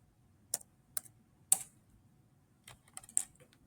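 A computer keyboard is typed on in a few sparse, quiet key clicks, isolated taps with short gaps followed by a small cluster, in an otherwise near-silent room.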